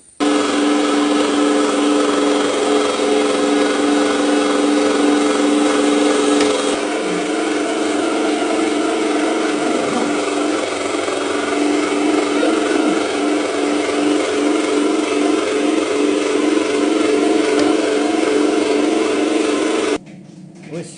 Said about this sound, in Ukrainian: починаємо все перемішувати, перерубувати на м'ясорубці